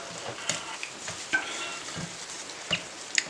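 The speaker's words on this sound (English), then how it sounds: "So let me get to mixing the batter." Batter for a sea salt dandruff shampoo bar being stirred, with faint scraping swirls and soft clicks of the utensil against the container, steady and close with no talking.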